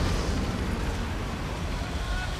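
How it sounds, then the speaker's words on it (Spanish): A massive underwater explosion deep below a small motorboat, rendered as a dense, roaring low rumble that fills the whole stretch without letting up. "Hubo una enorme explosión bajo el agua."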